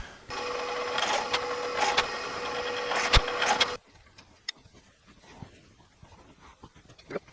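A drill bores a 3/8 inch hole in wood for a coat hanger keyhole slot: a steady, tonal motor whine runs for about three and a half seconds, then cuts off, leaving faint scattered clicks.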